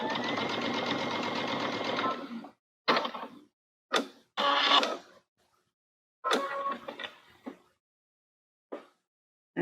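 A sewing machine stitching quilt fabric with a MuVit foot, running in a longer burst and then several short starts and stops separated by silence, close and clear without talking.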